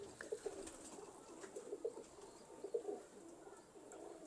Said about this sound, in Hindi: बड़े सर का कबूतर है।